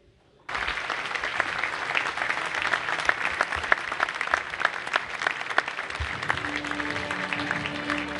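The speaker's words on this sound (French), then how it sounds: "On peut les applaudir plus fort que ça, s'il vous plaît." Audience applause at a federation congress in Fontvieille starts abruptly after a moment of near silence, then continues as steady, loud clapping from a large room; a faint tone or music enters near the end.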